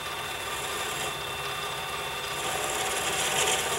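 A continuous harsh scraping rasp of a carbide tool grinding into wood, loud and close, steady throughout with no talking.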